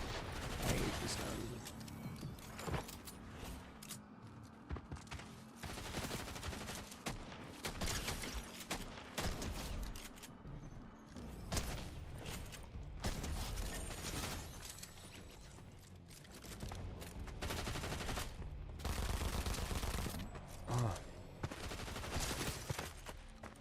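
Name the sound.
gunfire in a video game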